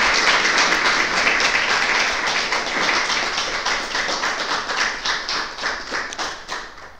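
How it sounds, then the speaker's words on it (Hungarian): Audience applause closing a Hungarian youth-policy debate event, dense sustained clapping from a crowd that gradually thins and fades out toward the end. "szerintem egy taps dukál itt a kollégáknak"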